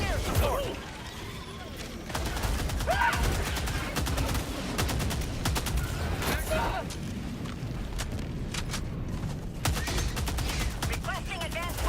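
Rapid gunfire crackles almost continuously in the video game Helldivers 2, sharp repeated shots layered with booms and battle noise, while a player talks over it.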